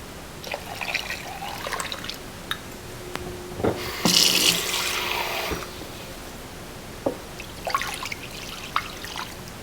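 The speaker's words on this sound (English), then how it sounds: "we need to cover it with water. And you can use water, or you can use a mixture of broth and water" Water mixed with broth pours into a pot over a corned beef roast, trickling and splashing in short bursts with one fuller gush midway, close by, and no talk.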